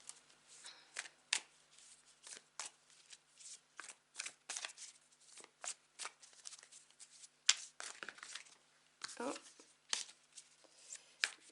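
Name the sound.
shuffling Intuitive Night Goddess Tarot cards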